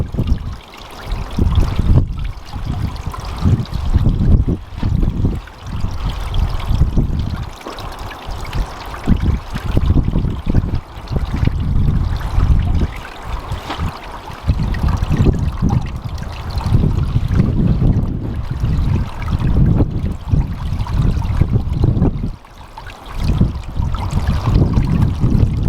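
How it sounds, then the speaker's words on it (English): Water from a hose pipe trickling over a 12-inch Aquascape waterfall spillway into a mini pond, a continuous close splashing and burbling that runs steadily throughout with small surges. "You can see it's dripping into the mini pond as it is."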